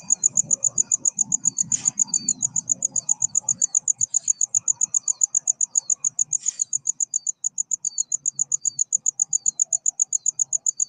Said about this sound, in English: I hear all kinds of crickets.